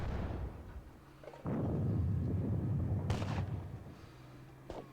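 Musket and artillery gunfire from the WDS Battle of Waterloo strategy game: a muffled low rumble of massed volleys swelling into a sustained roll, with a couple of sharper distant reports standing out.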